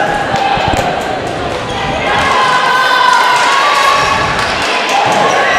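Crowd noise at a high school volleyball game in a gym, loud and close to the microphone, with chatter, cheering and ball thumps under a commentator's speech.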